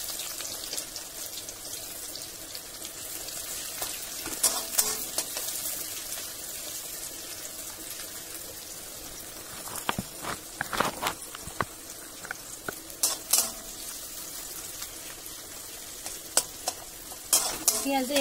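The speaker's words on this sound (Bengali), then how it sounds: "এদিকে আমার তেলটাও গরম হয়ে গেছে, এর মধ্যে দিয়ে দেবো কুচুনো পেঁয়াজ" Chopped onions fry in hot oil for biryani, sizzling steadily close up while a utensil stirs and scrapes the pan in scattered clattering bursts, with no talking.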